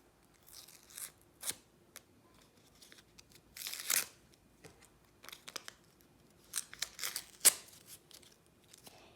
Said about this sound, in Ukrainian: Ось наш пакетик. І давайте відкривати.